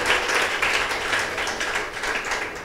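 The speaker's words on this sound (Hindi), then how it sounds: "जोर से तालियां मिलाइए पिता परमेश्वर के लिए" A church congregation claps loudly and steadily together, a full, continuous wave of many hands with no talking over it.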